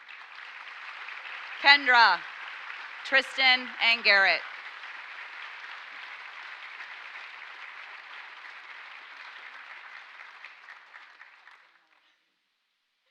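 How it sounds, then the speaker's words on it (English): An audience at a 2017 honors awards ceremony gives scholarship winners a sustained round of applause, a broad wash of clapping that runs for about eleven seconds and gradually fades, while a voice reads names over it early on. "let's give one big round of applause"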